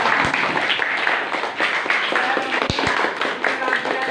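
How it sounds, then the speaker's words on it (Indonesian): A small group in a classroom training session claps together in a burst of applause that continues throughout, with a few sharper individual claps standing out. "Tepuk tangan dulu buat saya."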